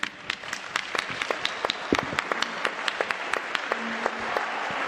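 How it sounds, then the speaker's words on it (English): A large audience applauds at a Detroit Economic Club gathering, the close, dense clapping holding steady for several seconds with sharper individual claps standing out and no talk over it. "how about a round of applause?"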